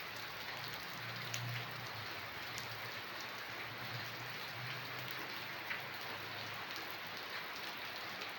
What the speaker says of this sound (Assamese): এয়া বৰষুণ চাওক, ইমান জোৰে বৰষুণ দি আছে।